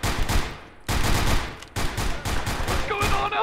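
Non-lethal shotgun blasts ring out in a spy simulator game, four heavy shots in close succession, each punchy report decaying before the next, with a faint electronic chirp near the end.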